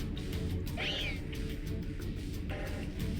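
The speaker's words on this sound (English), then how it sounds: "What is this cat talking about?" Asta, a cat character in a space-themed video game, gives a single rising-and-falling meow near the start over a low steady background hum, followed by a fainter second call toward the end.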